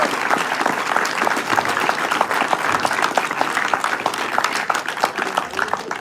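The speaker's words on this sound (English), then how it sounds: "I want a round of applause for everyone for that." An audience at the RoboBoat 2023 awards ceremony applauds loudly and steadily, dense clapping continuing throughout without letting up.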